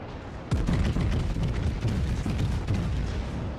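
The USS Wyoming battleship fires its main guns in World of Warships, a single sharp heavy boom followed by a long rumbling roar and decaying crackle that fills the rest of the moment.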